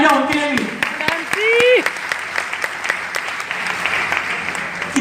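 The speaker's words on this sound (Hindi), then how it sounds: "एक बार जोरदार ताली हो जाए उनके लिए भी" A business training audience breaks into loud applause for Prem Kumar, with a voice speaking and calling out over the clapping at the start before the crowd keeps clapping on its own.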